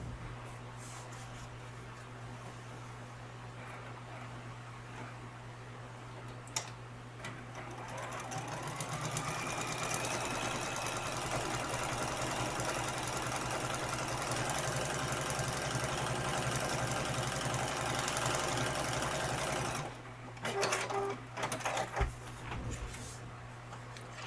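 A sewing machine stitches quilt pieces in a long, steady mechanical whir that runs for most of the stretch, then stops and gives way to a few short handling knocks near the end.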